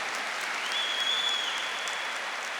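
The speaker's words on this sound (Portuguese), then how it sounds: "Pode aplaudir" Applause from a church audience at a Catholic Charismatic Renewal talk, a dense, even wash of clapping that holds steady for a couple of seconds with no talk over it.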